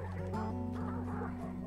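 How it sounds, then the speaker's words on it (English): Dogs bark and yip in the video game Hunt: Showdown, a quick run of close, loud barks with a whimpering edge over a steady low hum. "And there's dogs over here."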